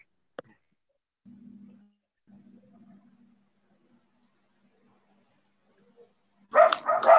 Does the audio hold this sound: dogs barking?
yes